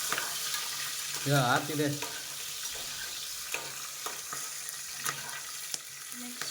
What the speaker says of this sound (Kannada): ಅದು ಫ್ರೈ ಆದಮೇಲೆ ನೆಕ್ಸ್ಟು ಹಸಿಮೆಣಸಿನ್ಕಾಯಿ ಹಾಕಿಟ್ಟಿದ್ದೀರ